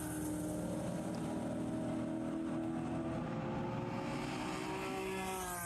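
Race cars circling the track at an SCCA race at Summit Point, a steady, dense engine drone with rising and falling tones of cars passing at a distance, no voices over it.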